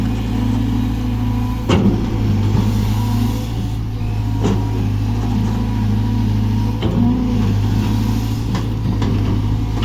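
A Cat 320GC excavator's 4.7-litre turbo diesel engine runs steadily and loud nearby during road-widening work, a constant low rumble with a few brief knocks and clanks over it.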